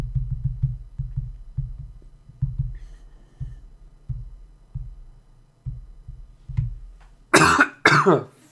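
A man coughs repeatedly into a microphone while gaming, a string of low, wet, hacking coughs close to the mic, ending in two louder, harsher bursts of throat clearing.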